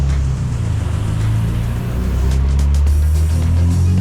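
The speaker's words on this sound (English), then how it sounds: "that is a nice GTR Skyline" Nissan GTR Skyline engine, a loud deep steady rumble that swells slightly partway through, close and continuous, heard as it passes on a street in Thailand.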